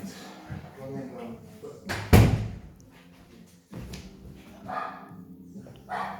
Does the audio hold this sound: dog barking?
yes